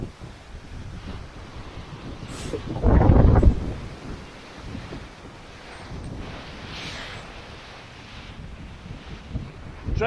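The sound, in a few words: strong squall wind at sea, 27-30 knots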